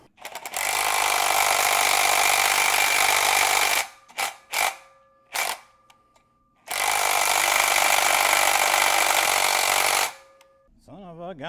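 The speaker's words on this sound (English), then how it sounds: "I'm wondering if an impact drill would widen it more." Loud power tool bursts of an impact drill working on a car muffler and headpipe joint, a long run, two short hits, then another long run, with brief pauses between.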